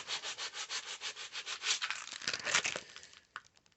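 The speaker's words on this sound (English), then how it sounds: "just sanding a little bit here" Sandpaper rubs back and forth over the headlight trim of a 1973 Jeep Commando in quick, even strokes, then turns rougher and more uneven before stopping, close and clear with no talking.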